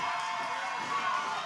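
A wrestling crowd at an OVW TV tag team match roars steadily and loudly throughout, a dense continuous wall of cheering with no pauses.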